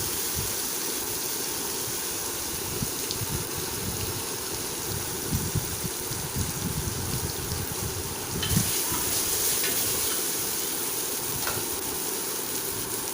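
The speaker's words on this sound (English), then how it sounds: "Then you have to fry the onions" Onions sautéing in a pan for a baby corn veg biryani, a continuous soft sizzle and hiss with occasional clinks and scrapes of stirring, moderately quiet and without talk.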